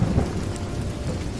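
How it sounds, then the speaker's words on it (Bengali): Heavy downpour roars steadily through a thunderstorm, with deep low rumbles of thunder rolling beneath the constant rain, loud and close throughout with no voices. "বজ্রপাতের শব্দে চারিদিক কেঁপে উঠতে লাগলো।"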